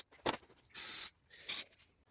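Two short bursts of pressurized spray hiss close by, with a faint click just before them, spraying off a differential drain plug on a CFMOTO ZForce 800.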